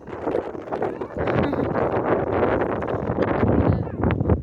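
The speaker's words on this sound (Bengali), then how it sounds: "অনেক হাওয়া দিচ্ছে আজকে" Strong wind buffets and roars across the microphone in continuous gusts, loud and close throughout with rustling mixed in.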